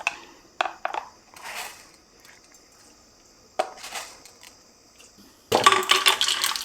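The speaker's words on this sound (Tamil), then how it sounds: "கடுகு பொரியுது" Mustard seeds splutter in hot oil for tempering sambar. A few scattered clinks and pan sounds come first, then a sudden loud, dense crackling sizzle close up.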